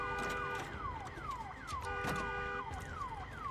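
A car alarm wails in a zombie survival game, Days Gone, its repeating falling electronic whoops cycling rapidly and steadily, loud and close, with game noise underneath and no talk.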